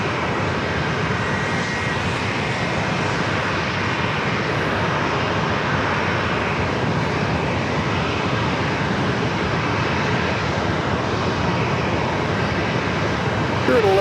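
A jet airliner lands at San Diego airport, its engine roar a loud, continuous broadband rumble that holds steady throughout, with no talk over it.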